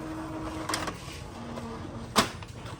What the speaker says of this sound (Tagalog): So, magte-test print yung printer.